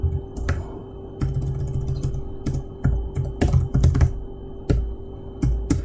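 Close, irregular typing on a computer keyboard while coding in Unity, with clusters of sharp key clicks and short pauses between bursts, no speech.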